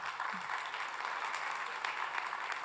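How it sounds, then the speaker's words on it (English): An audience claps steadily for a musician after a performance at a strategy summit, a dense round of applause held at a moderate, slightly distant level throughout. "Please join me in giving Bete a round of applause."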